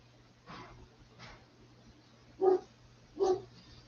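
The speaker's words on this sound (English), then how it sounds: "we're going to have some dogs barking" Dogs bark as the mail arrives, four separate barks spaced about a second apart, the first two muffled and distant, the last two louder and closer, over a low steady hum.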